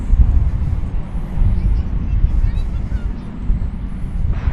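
An American Airlines jet landing at Dallas Fort Worth airport, a steady low roar with wind buffeting on the microphone, loud and sustained throughout.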